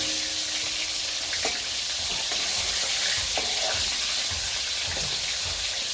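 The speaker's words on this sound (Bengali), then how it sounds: "উল্টে পাল্টে খুব সুন্দর করে ভেজে নেবো" Whole vegetables fry in a large, full kadai wok, giving a steady soft sizzle at low level with occasional stirring clinks and no talk.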